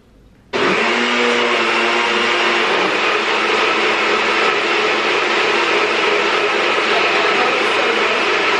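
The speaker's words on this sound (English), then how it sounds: "you can do this in like a blender like we do" A kitchen blender switches on abruptly and runs at a steady, loud, high-speed whir for several seconds, making smoothie-style food for a healthy lunch, with no talking.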